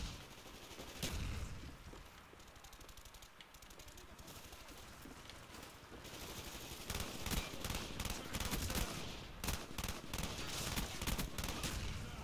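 Burst-fire G11 gunfire in Call of Duty Black Ops multiplayer, a steady loud wash of rattling shots and explosions that grows busier toward the end, faint voices mixed low underneath.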